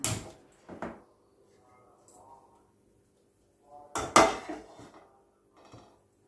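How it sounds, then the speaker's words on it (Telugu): A metal cooking pot set onto a home kitchen stove, a few distinct close clanks and knocks separated by quiet gaps, with soft clattering between them and no talking. "ఇప్పుడు స్టవ్ ఆన్ చేసుకొని ఒక గిన్నె పెట్టుకుందాం"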